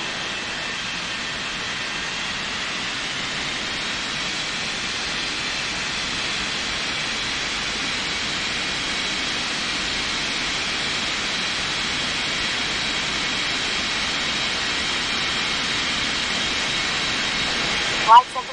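A jet airliner takes off from runway 14 left at a busy commercial and cargo airport, a long steady engine roar with a high whine, distant and unchanging for the whole stretch.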